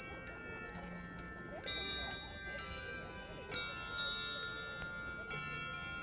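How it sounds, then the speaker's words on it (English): Soft chiming bells play holiday music in a repeating melody at an outdoor gathering, with gentle background murmur and occasional louder strikes ringing out over steady ambient noise. "The bells are just playing softly, holiday music."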